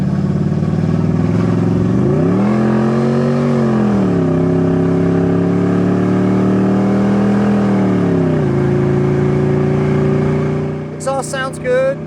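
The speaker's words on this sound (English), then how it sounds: "Exhaust sounds good, has good performance for being a stock style 307" The stock-style 307 V8 of a 1984 Oldsmobile Hurst gives a steady, deep exhaust drone while driving, its pitch rising and settling as it shifts. The sound is loud and continuous, with a brief clatter near the end.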